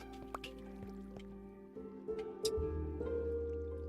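Water in Minecraft gives soft drips and liquid squishes over a steady game hum, a few brief splashy bursts appearing near the end.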